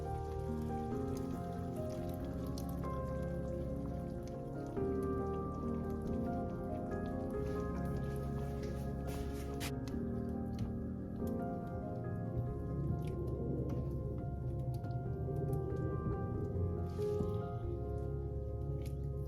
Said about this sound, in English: So I'm gonna let this simmer for a couple of more minutes and it's gonna be ready.